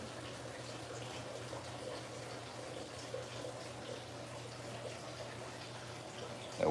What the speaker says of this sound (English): That water y'all hear that's coming from the fountain over there.